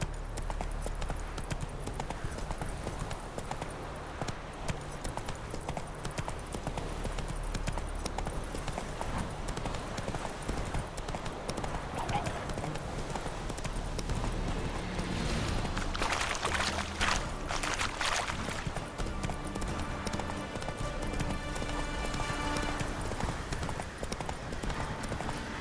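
Roach, the horse in The Witcher 3: Wild Hunt, galloping with continuous close hoofbeats that run steadily through the stretch, with water-like and ambient game sounds rising later.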